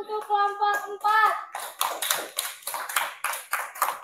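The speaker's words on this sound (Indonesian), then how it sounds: "silakan berikan tepuk tangan untuk kelompok 4" A voice speaks briefly, then a classroom of students claps in a steady, rhythmic beat of about eight or nine sharp group claps for group 4 after their fable presentation.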